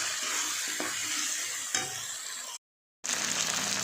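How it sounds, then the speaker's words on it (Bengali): Fried shrimp sautéed with green chilli, cumin, chilli and turmeric powder, a steady close sizzle with scraping stir strokes and a brief gap near the end. "দিয়ে দেবো কাঁচা লঙ্কা, জিরের গুঁড়ো, লঙ্কার গুঁড়ো, হলুদের গুঁড়ো, দিয়ে এটাকে একটুখানি কষিয়ে নেবো।"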